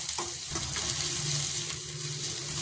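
Paneer, capsicum and tomato sizzling in a pan, a steady close frying hiss with a few light stirring clinks and no voices.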